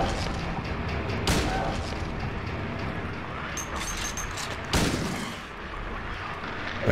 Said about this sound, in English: Rifle, folks.